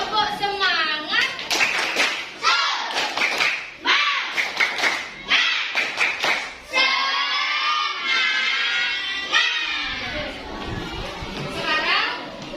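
Schoolchildren in a classroom perform a rhythmic 'tepuk semangat' clapping chant, with bursts of claps and chanted young voices repeating in patterns for several seconds, loud and close.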